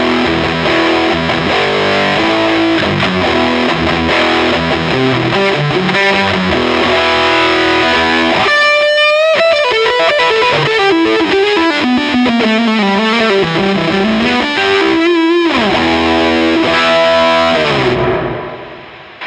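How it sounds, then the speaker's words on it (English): Electric guitar through an overdrive pedal set to high gain and high headroom, loud saturated chords and single-note runs with bends and some hiss, sustained throughout and cutting off at the end. "And if you want to crank some more gain out of this, bring that headroom up."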